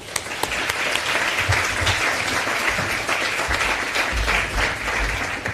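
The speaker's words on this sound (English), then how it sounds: "please, with a big warm round of applause to welcome Caroline to the stage" Loud, dense audience applause fills the room at the CogX 2019 Health Stage as a speaker is welcomed on, sustained and even throughout with no talking.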